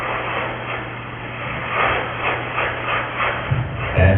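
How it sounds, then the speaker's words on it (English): A search and recovery helicopter flies past as a steady, broad engine-and-rotor roar, loud and continuous. It swells slightly partway through and carries on throughout, muffled and with no voices over it. "you can see one of those search and recovery helicopters"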